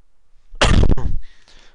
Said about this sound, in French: j'ai une légère toux